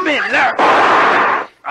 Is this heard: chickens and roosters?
no